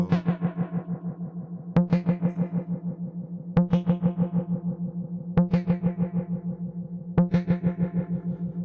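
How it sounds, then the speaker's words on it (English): A pulsing tone repeats in stereo cross-feedback delays bouncing between left and right, echoing and decaying, with sharp clicks marking each new repeat at a steady rhythm. "if you turn the X feedback on, you'll get cross feedback between left and right."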